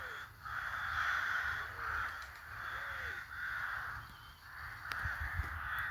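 Several crows caw repeatedly in the evening from some distance outdoors, harsh calls coming in uneven bursts with short gaps over a quiet background.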